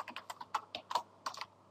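Fingers type code on a computer keyboard in a rapid, uneven string of crisp, close key clicks with short pauses between bursts. A faint steady hum sits underneath, and no one speaks.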